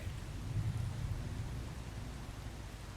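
Rainfall in the survival game Once Human, an even, moderately quiet rushing patter with a soft low rumble beneath, continuous and without speech.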